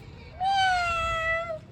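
A person's voice imitates a single drawn-out cat meow, rising then slowly falling, clear and close in a quiet room.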